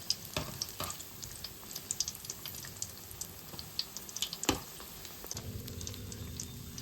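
Chili bajji fritters frying in hot oil, a steady soft crackle and sizzle with scattered sharp pops and a brief clatter near the end, no voices.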